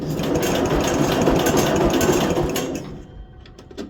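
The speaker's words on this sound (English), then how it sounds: "And believe it or not, it does run." An old cast iron Briggs & Stratton small engine, cold and backfiring, runs on throttle with a fast, loud mechanical clatter that holds steady for a few seconds, then cuts out into quiet with a few faint knocks.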